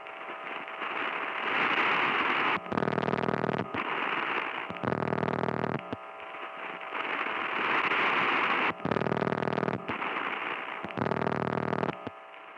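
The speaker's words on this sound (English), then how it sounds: "This is the sound of my phone line while an incoming call is ringing on it." Noisy 1980 telephone line captured on tape while an incoming call rings on it, alternating blocks of harsh buzzing ring signal and hissing line noise in a steady repeating cadence, loud and distorted.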